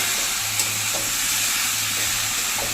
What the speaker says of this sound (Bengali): এই ডিম আলুটা দিয়ে দিব দিয়ে এটা করতে থাকবো কিছুক্ষণ কষে নিব